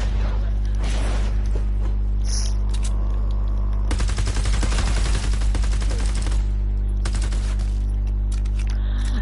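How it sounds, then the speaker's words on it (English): Rapid gunfire from a weapon firing mini ammo in Fortnite Save the World, with bursts of repeated shots across the clip over steady low game hum, loudest in a dense burst midway. "Yo, I shot it like 500 times and it didn't die."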